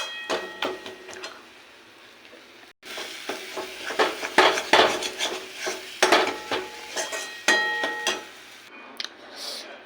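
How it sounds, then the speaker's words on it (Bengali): Pointed gourd paste fries in a pan, sizzling under repeated metallic scrapes and knocks of a stirring spoon against the pan, close up, with a brief pause near the start and no talk. "এভাবে ভেজে শুকিয়ে নিলেই রেডি"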